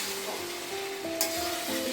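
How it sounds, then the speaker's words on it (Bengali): Water lily stems cook down with hilsa and prawn in a pan in a thick mash, making a close, steady sizzle with soft stirring scrapes. "ভালোই ফুটছে, ঢাকা খুললাম,"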